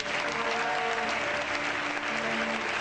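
A church congregation at a prophetic gathering applauding the Lord, loud dense clapping that fills the room evenly and continuously, with faint cheering mixed in.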